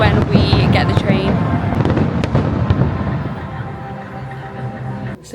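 Fireworks over Nice, France, crackle and pop repeatedly at a moderate distance with scattered sharp bursts, while people chat nearby.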